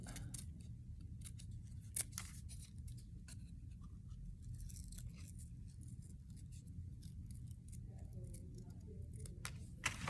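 Scissors snip around a paper onion shape with repeated crisp cuts at an uneven pace. The snips sound close, over a low steady background rumble.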